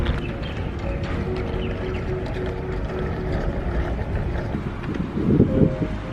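Twin small electric motors of a Flytec remote control boat with propeller guards, a steady buzzing whir running continuously throughout, close and fairly loud with windy outdoor noise and a brief louder surge near the end.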